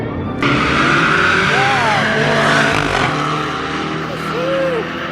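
A Cadillac CTS race car engine roars loudly and steadily, with revving pitch sweeps and tire noise, while people talk over it.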